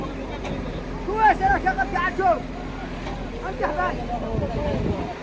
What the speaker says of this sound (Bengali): এখন ইঞ্জিনটা চেক করা হচ্ছে